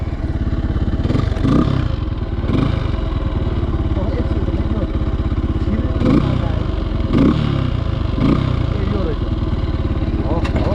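An enduro motorcycle engine runs steadily on a narrow trail in Nepal, a loud, continuous mid-pitched drone with periodic clattering bursts, while riders talk over it.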